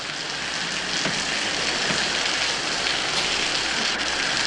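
Steady rain falls at night, a continuous hiss of drops with faint scattered patters and no voices, even and moderately loud throughout.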